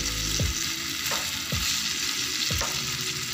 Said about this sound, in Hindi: 7 से 8 मिनट के लिए हम इसको ढककर पकाएंगे